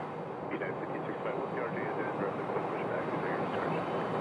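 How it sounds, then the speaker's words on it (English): A Boeing 737-800 airliner landing at Phoenix Sky Harbor Airport, heard as a steady broad roar of engine and airflow at a distance, holding even throughout. "there's the 737-800 landing from Detroit"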